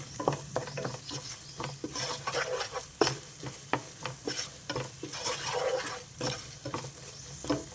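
Masala for garlic chicken curry frying in a pan on medium heat, a steady sizzle punctuated by rapid, irregular scraping stirs and spoon taps throughout, close and fairly busy, no talking.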